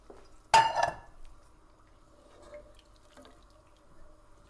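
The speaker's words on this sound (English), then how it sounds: "We're going to probably add about half a litre of water to that, because you want it a nice soupy consistency" About half a litre of water is poured into a pot of soaked beans being made into soup, a brief close splash that quickly drops to faint dribbles and small knocks.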